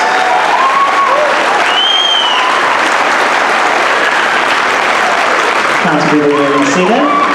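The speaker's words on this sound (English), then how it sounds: "Can we give them a round of applause?" Sustained audience applause for student concert band members, including flute, clarinet and percussion players, fills a large hall, dense and steady throughout with some voices and a few tonal sounds rising near the end.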